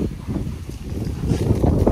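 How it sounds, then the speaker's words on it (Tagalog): Strong wind gusts through trees during a rainstorm, a loud, continuous roaring rush close to the microphone that swells toward the end, with no voices. "Ang hangin guys, oh."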